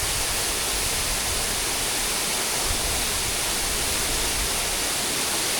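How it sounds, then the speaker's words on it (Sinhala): Water pours steadily over the Bata Ella waterfall in Kaluga, a loud, unbroken roar of rushing water from close by with no other sounds. "ඇල්ලේ වතුර ගලාගෙන එනවා."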